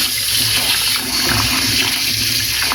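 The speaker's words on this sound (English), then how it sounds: "So now we're gonna proceed to wash our rice before we add it to the beans." Running water pours steadily while rice is washed, a loud continuous close splash and gush with no voices.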